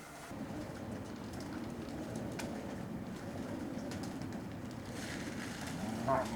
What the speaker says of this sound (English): He's giving the birds their evening feed.